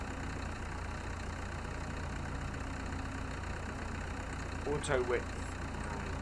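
A tractor engine idles steadily in Farming Simulator, a constant low drone under spoken words, with a brief tonal blip near the end.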